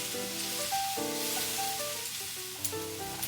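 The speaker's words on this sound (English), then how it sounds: "I love the smell of onions cooking" Onions fry in a pan with a steady crackling sizzle, joined by tonal clinks and scraping like a utensil stirring against cookware, all fairly close and without talk.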